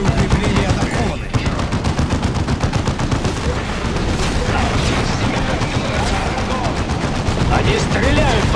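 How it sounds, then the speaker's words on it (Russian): Gunfire in Warhammer 40000 Dawn of War II Retribution: loud, continuous rapid bursts of automatic fire and impacts from a battle, dense and close, with a voice faintly under the din. "Они стреляют по нам."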